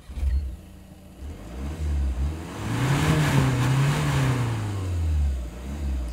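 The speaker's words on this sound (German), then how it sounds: "So hört er sich an, der Dieselmotor im Volkswagen California mit dem 199 PS Diesel" Diesel engine of a 2020 Volkswagen T6.1 California Ocean camper van, 199 PS, front-wheel drive, revving up with a rising and falling drone, close and steady with no talk over it.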